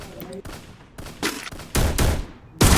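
Gunfire in a mobile battle royale match, several sharp bursts of shots growing louder toward the end, close and punchy with no voice over them.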